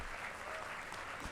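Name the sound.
audience applauding graduating student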